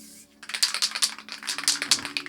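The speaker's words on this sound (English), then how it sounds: "We'll just spray around them for an outline." Rapid bursts of hissing from a spray paint can pulse in short, uneven puffs, close by and fairly soft, with brief pauses between them.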